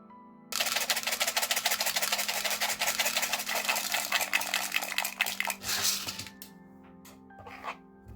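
Tic Tac candies pour out of a transparent plastic box in a fast, rattling cascade of small hard clicks for about five seconds, then thin out to a few last scattered ticks.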